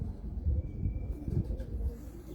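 Pigeons cooing on a rooftop loft in Muscat, Oman: several soft, low throaty coos in a loose rhythm, close by, with faint outdoor ambience and no speech.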